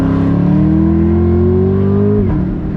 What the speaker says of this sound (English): I do not get bored with that amazing push rod supercharged V8